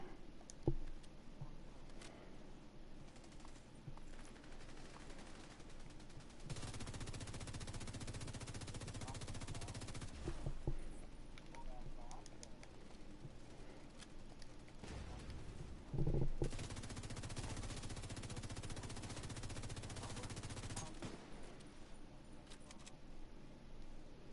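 Gunfire in the video game The Division 2 as a player shoots special ammo at an enemy, with sustained stretches of rapid automatic fire over constant game background noise and a sharp burst partway through.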